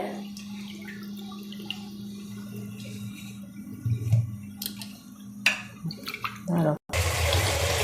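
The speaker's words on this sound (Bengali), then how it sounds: "তার জন্য ধুয়েও নিচ্ছি ভালো করে" Bethua leafy greens are washed by hand in water at a home kitchen, with a continuous running-water hiss, swishing and splashing up close that grows busier toward the end.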